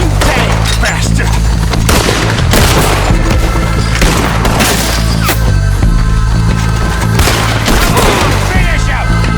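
Gunfire in the video game Red Dead Redemption 2 during a fight with Lemoyne Raiders: loud, continuous booming shots and cracks layered densely over game music and shouting voices.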